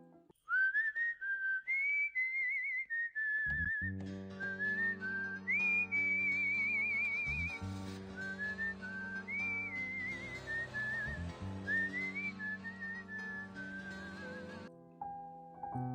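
Someone whistles a wavering melody in the Indian film Dil To Pagal Hai, at first alone and then over soft sustained music, close and clear throughout.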